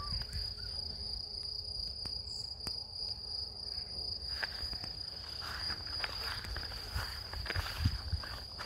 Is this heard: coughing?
no